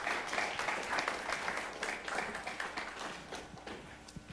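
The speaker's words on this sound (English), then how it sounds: "So again, one more round of applause." An audience at a career talk by fire department speakers claps steadily in a dense, even burst of applause that tapers slightly toward the end, with no talk over it.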